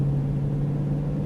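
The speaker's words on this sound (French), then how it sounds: "Allez, on accélère un peu." A Ford Mustang Shelby GT500 engine runs with a steady low drone and rumble from inside the car as it accelerates gently, an even, continuous tone with no voices.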